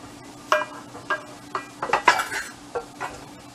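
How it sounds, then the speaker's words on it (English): Metal spoon scraping and clinking against a pot as rice is stirred into boiling broth for Cajun chicken and rice, with about seven sharp knocks in an uneven rhythm over a low simmering hiss. "give it a little bit of a stir"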